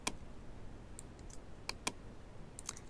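Several sharp keyboard key clicks on a computer keyboard, scattered irregularly and faint over a quiet room hiss, as a shortcut is pressed during Photoshop image editing.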